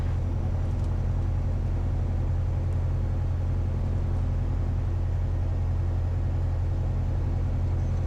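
Light aircraft engine idling steadily at about 1200 rpm during pre-takeoff power checks, a constant low droning rumble heard close from inside the cabin.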